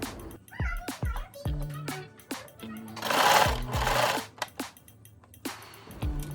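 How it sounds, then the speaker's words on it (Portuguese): Sewing machine stitching a zipper seam on a plaid dress, running in short bursts with a steady mechanical hum and a louder sustained stretch midway, with a voice speaking in between. "Vai abrindo bem e vai costurando."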